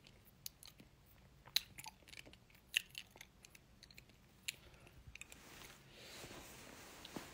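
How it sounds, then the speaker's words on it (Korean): Someone crunches hard candy up close, producing faint, irregular bites and crisp crunches spread across the moment, with no talk. "네 캔디 먹고 있어요."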